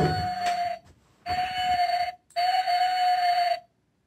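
A motion detector chime sounds a steady, loud electronic whistle-like tone three times, each lasting about a second, with short silent gaps between, set off by movement in front of the sensor.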